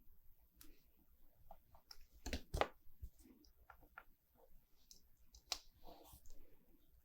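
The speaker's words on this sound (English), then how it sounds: "let me grab my X-Acto and just trim that off" Quiet, sparse clicks and soft scraping from an X-Acto knife trimming paper for a Happy Planner layout. Two sharper snaps stand out near the middle, with small handling noises around them and no talking.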